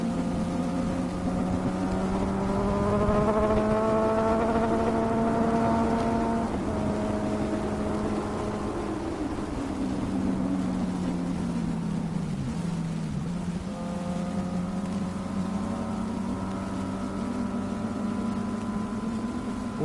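A Suzuki GSX-S1000 motorcycle, its engine and exhaust note rising and falling through revs as it rides past, a loud sustained tonal drone with pitch sweeps and no talking.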